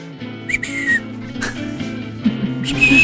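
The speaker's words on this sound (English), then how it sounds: "My new whistling sign off." A person whistles a short, wavering sign-off tune at the close of a board-game podcast episode, several bright phrases rising and falling with brief gaps, heard up close.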